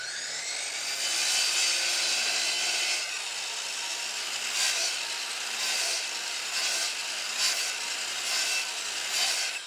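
A saw makes kerf cuts in scrap wood, producing a loud, steady, rasping buzz held close, with brief surges where the blade passes through the material.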